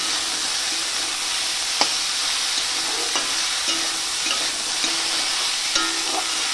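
Kochur loti with chilli frying in a pan, a continuous close sizzle punctuated by several scraping, clinking stirs of the spoon against the pan.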